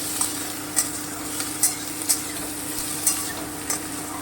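Green chilies and eight to ten black peppercorns fry in oil for duck egg korma: a steady, close sizzle punctuated by regular spatula scrapes roughly every half second.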